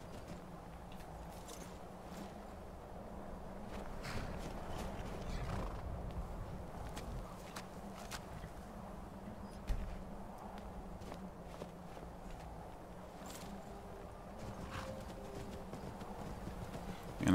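A horse in the video game Skyrim, hooves clip-clopping in a steady walking rhythm with an occasional whinny, quiet and continuous over a low ambient hum.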